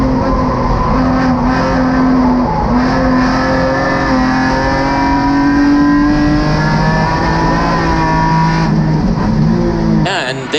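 Race cars at Gingerman Raceway roar past loudly, engines revving and shifting through rising and falling pitches in a continuous close-up pack of noise.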